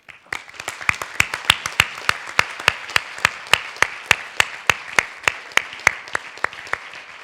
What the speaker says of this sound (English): So I think they deserve a huge round of applause.